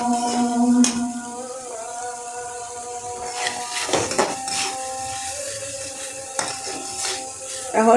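Baim fish curry with roasted cumin being stirred in a pot, metal utensil clinks and scrapes ringing out at irregular intervals, close and distinct without talk.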